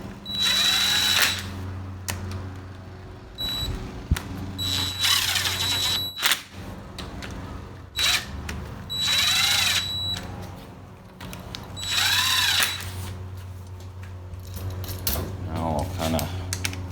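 Impact wrench snugging bolts on a 4L60E automatic transmission during a rebuild, heard as several short whirring bursts with brief gaps, close and loud, with someone talking between them.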